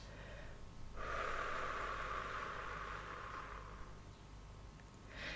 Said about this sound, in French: tu souffles tout doucement par la bouche en relâchant ces parties de ton corps